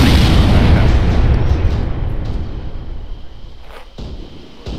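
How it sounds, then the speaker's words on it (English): A mortar explosion during a military field training exercise produces a loud, heavy boom whose rumbling tail fades over several seconds, followed by fainter distant thuds. "They're moving further away the mortars."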